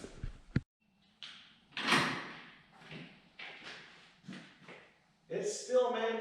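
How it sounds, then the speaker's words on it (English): Someone lifts a manual shed door up by hand. Heavy rolling clunks and rattling thuds come in several bursts, loud and close, with a voice between them. "I guess I'll go ahead and lift this door up."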